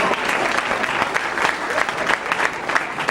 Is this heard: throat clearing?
no